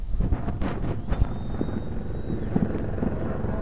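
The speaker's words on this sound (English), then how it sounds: "helicopters overhead" Helicopters flying overhead above Baltimore rooftops on the 4th of July, a steady, moderately distant rotor drone mixed with wind buffeting on the microphone and a few scattered thumps.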